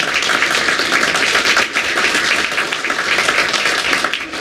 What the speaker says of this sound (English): big round of applause for SoCast as well